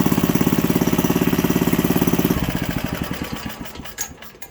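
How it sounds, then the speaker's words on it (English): A barn-found 1951 Briggs small engine chugs loudly and close with a rapid, even put-put rhythm, then its pulses slow and soften as it winds down and sputters to a stop; no talking. "It's not every day you pick up a nice vintage motor and it actually works."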